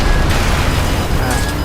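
A grenade explosion in the Armored Core 6 mech game's online arena sounds as a loud, dense booming roar that fills the whole moment without a break.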